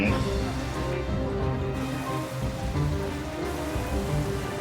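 Heavy rain pours steadily on a stormy day in the Japan Alps mountains, a dense, even hiss of drops on surfaces that stays loud and unbroken throughout.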